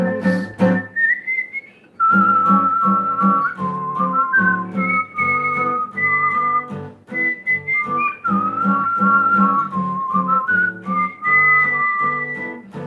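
A person whistles the chorus of a cheerful song alone, a clear, steady melody of sustained and gliding notes running continuously for about thirteen seconds.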